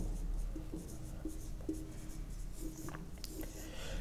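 A heading is written by hand in a class: short scratching strokes and light taps in quick bursts, close and soft over a low background hum, with no talk.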